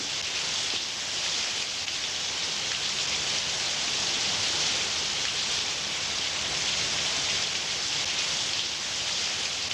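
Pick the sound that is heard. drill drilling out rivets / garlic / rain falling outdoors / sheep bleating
rain falling outdoors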